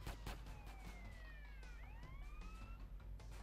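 Police motorcycle sirens in a video game, wailing tones sweeping up and down and crossing each other over engine rumble and clatter, fairly faint.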